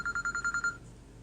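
A telephone rings during a Thai temple radio broadcast, about seven rapid electronic trill pulses that stop abruptly, faint and alone over a quiet background.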